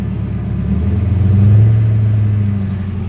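A car fitted with an MBRP catback exhaust, BBK mid pipe and shorty headers idles and revs briefly, a deep throaty rumble swelling to a peak midway and easing off, close and loud.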